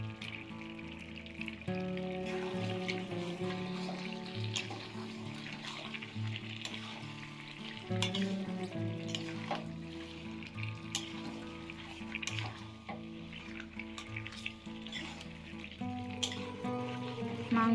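Mutton fries in a pan with a whole garlic bulb and potato pieces, giving a quiet, steady sizzle under faint background music, with occasional light clatter and no talk.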